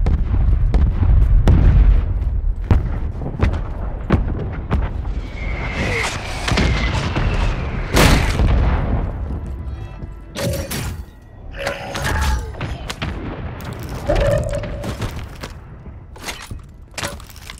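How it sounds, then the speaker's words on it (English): Mortar strike explosions in Call of Duty Warzone land as a series of heavy booms and crashes, loud and close, spaced irregularly over many seconds with debris rattle and scattered gunfire between them. "Friendly mortar strike on the way."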